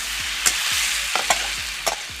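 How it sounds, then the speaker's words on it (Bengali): Potatoes stirred with spices in a hot pan for aloo do pyaza, a steady frying sizzle beneath a few scraping strokes of the spoon, with low thumps recurring throughout. "সব মশলার সাথে আলু ভালোভাবে মিশিয়ে নিয়েছি।"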